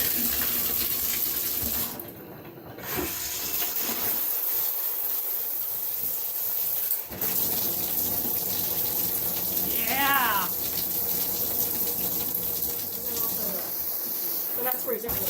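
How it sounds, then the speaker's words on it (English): Water streams steadily from a waterfall shower head in a home bathroom, a continuous close rushing hiss with a brief dip early on and faint voices underneath. "It is a waterfall shower."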